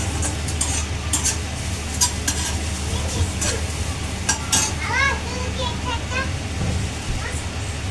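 Garlic frying in hot oil in a pan while being stirred for a home-cooked chicken dish, giving a continuous sizzle with spoon scrapes and clatter, under people talking nearby.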